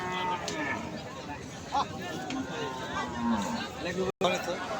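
Cattle moo at a crowded bull market in Choubaria, Manda, Naogaon, with low calls rising above steady crowd chatter and people talking nearby.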